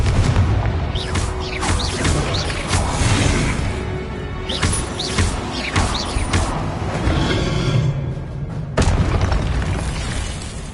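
In Hogwarts Legacy, a Confringo spell sets off loud, crashing explosive booms and rumbling debris, with several sharp impacts and a heavy blast near the end over constant noisy game ambience.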